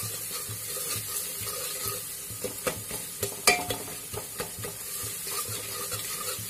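Spices roast in a pan for a Garhwali potato sabzi, a low sizzle under repeated scraping stirs and sharp utensil knocks against the pan, with no one speaking.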